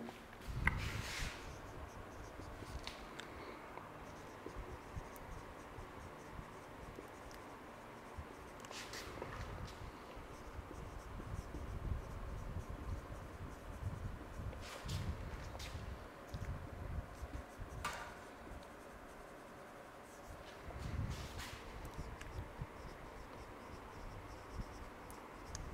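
Pen or chalk scratches softly while a teacher writes out a number problem in a quiet classroom, faint and steady strokes with occasional taps, no talking.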